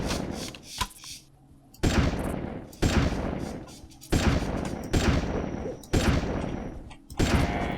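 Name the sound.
shotgun gunfire in video game Carnivores 2+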